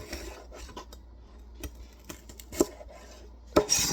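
A sharp knife chops meat bits on a cutting board, giving close, irregular thuds and scraping strokes spread over a few seconds, louder toward the end.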